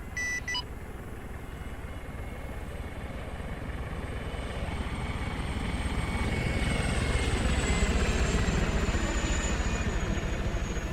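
An Apache helicopter in the Arma 3 military game whirs with a steady rotor thump and engine drone that slowly grows louder, opening with a short electronic beep.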